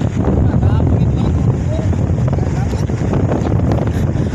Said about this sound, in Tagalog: ang lakas ng hangin dito